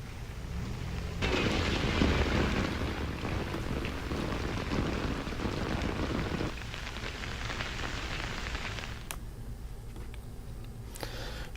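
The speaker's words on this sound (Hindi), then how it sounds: "श्रीनगर और वादी कश्मीर के कुछ दूसरे हिस्सों में सुबह से ही बारिश हो रही है।" Steady rain falls over Srinagar in Kashmir, a dense, continuous hiss of drops on surfaces that is heavier early on and then eases to a softer patter, with no voices.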